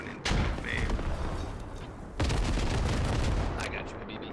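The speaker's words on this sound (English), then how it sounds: "airstrike lands right behind us, trying to mop up some infantry" Two heavy blasts from an airstrike in a military video game set in urban combat, each hitting hard and then rolling into a long, dense rumble that fills the scene.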